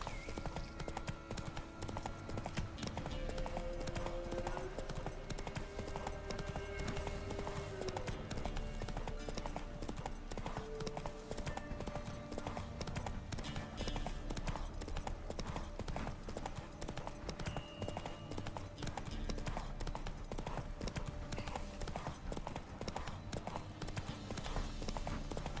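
Hooves of the horse Roach clip-clopping steadily through The Witcher 3: Wild Hunt on PC, a continuous trotting rhythm under dense game ambience and music.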